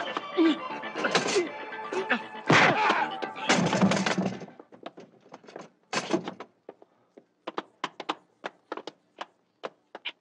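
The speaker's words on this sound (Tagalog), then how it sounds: "Buksan mo pinto, Nadia!" Repeated banging and thumping on a door, loud clustered blows at first, then sharper, quicker separate knocks, with shouting voices mixed in early on.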